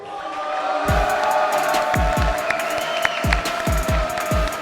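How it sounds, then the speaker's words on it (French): A crowd applauds and cheers for a fighter at an AOS combat event, a loud sustained roar with a pounding low beat thumping underneath. "Faites un tonnerre d'applaudissements pour Naïm Mojahed."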